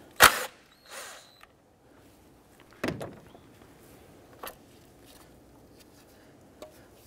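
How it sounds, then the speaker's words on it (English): A ratchet with a 12mm socket loosens a bracket bolt on the intake of a 2005-2011 Nissan Frontier 4.0L V6, giving a few separate close clicks and scrapes with quiet gaps between them, no voices. "Using a 12mm socket, loosen this bracket bolt."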